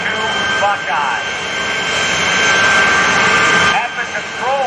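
A jet truck powered by three J-34 jet engines from the T-2 Buckeye Navy trainer roars steadily and loudly throughout, with a voice talking over it.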